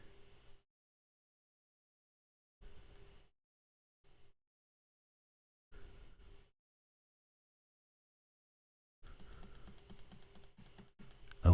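Bursts of mouse and keyboard clicks come from a computer with a frozen web browser, quiet and close, separated by long silences and ending in a denser run of rapid clicking.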